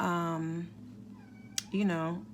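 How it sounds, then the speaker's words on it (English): A kitten meows twice, clear and close, with a short pause between the cries. "you can hear my kitten"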